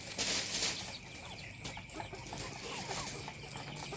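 Native chickens cluck and call at a poultry farm in San Manuel, Pangasinan, a busy, steady flock murmur with scattered nearby clucks and some wing flutter, no talk.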